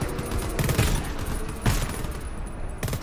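Rapid automatic gunfire in the video game GTFO, with dense rattling bursts and a few sharper shots over about three seconds and no voices.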